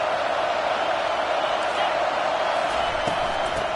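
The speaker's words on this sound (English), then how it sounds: "This crowd knows when to bring it." A large college football stadium crowd at an Oregon vs FSU game roars in a steady, unbroken wall of cheering, dense and sustained for the whole stretch with no break or single voice standing out.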